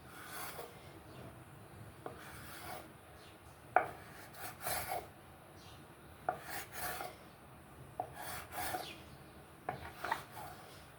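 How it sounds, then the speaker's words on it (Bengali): A knife cuts flatbread dough into equal pieces on a board in a home kitchen, giving quiet scraping and rubbing strokes with soft taps that come at irregular intervals. "আমি এখন নাইফ দিয়ে সমান করে কেটে নিব প্রত্যেকটা রুটি একই মাপের হবে"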